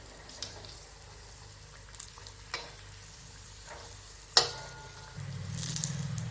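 Chili bajji fry quietly in hot oil, a faint steady bubbling sizzle broken by a few soft clicks and one sharp knock as they are turned, ending in a louder burst of frying.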